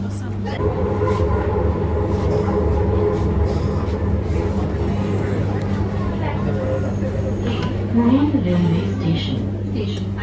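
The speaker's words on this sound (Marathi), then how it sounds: "गाईज पुण्याची मेट्रो बघा" Pune metro train rumbling past outdoors in the city, a steady low drone with rail rattle, with voices and street babble around it.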